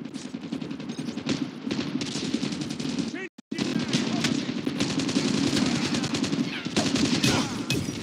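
Gunfire in the mobile shooter Call of Duty Mobile: loud, sustained rapid automatic bursts fill the clip, broken by a brief silent gap near the middle, then resume just as dense until the end.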